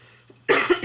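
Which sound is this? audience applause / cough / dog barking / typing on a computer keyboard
cough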